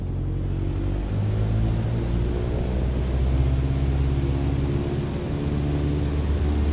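A light aircraft's engine roars at full takeoff power in Microsoft Flight Simulator, a steady, loud, low droning rumble that holds evenly throughout with no talk over it.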